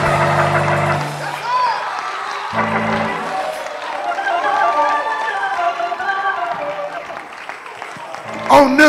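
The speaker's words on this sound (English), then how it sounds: "On this road we clap." Church congregation clapping and cheering during a lively worship service, sustained applause with crowd noise and voices mixed in throughout.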